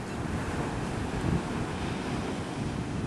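Strong wind at a Puerto Rico beach, a loud continuous roar of gusts buffeting the microphone over a steady rumble of surf, with no voices.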